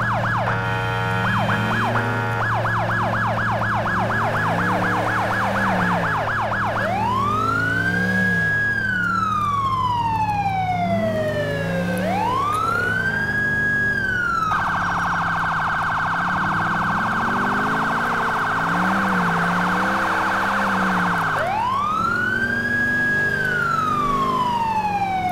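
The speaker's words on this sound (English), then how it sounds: "My siren work needs a little more practice" Police car siren from GTA IV cycling through wail and yelp patterns with rapid rising and falling sweeps, loud and continuous over a low engine hum, with no talking.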